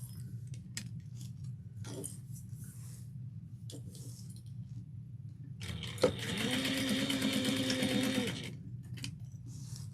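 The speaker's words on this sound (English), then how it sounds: "I'm going to trim my threads" A sewing machine runs in a sustained burst while a tote bag is being made, with faint small snips and clicks around it, close and fairly quiet with no talking.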